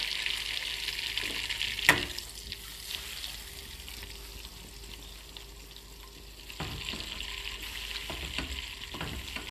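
Dried red chilies, cloves and cardamom fry in butter while a spoon stirs them, giving a continuous hiss and crackle with occasional scrapes and one sharp clink, and no one speaks.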